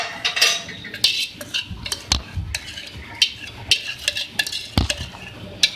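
A spoon stirs homemade white sauce into a sandwich filling in a bowl, giving repeated close, sharp clinks and scrapes against the bowl in an uneven rhythm, with no talking.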